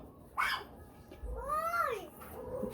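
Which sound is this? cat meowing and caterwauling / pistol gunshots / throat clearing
cat meowing and caterwauling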